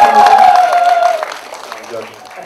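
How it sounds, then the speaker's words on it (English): Applause and cheering from the audience at a film press screening, fairly loud at first and then fading, with a voice and a sustained tone over it. "Only if you applaud after I'm done."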